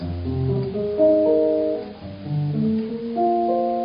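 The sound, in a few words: jazz guitar chords voiced in fifths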